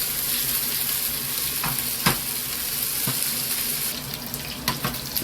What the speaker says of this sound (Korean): 짜장은 이렇게 바삭하게 기름에 튀기듯이 고기를 이렇게 해주셔야 됩니다